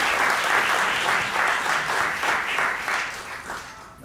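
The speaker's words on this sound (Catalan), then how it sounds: "un fort aplaudiment" An audience at a school event applauds steadily, dense clapping filling the room at close range and holding strong before easing slightly at the end.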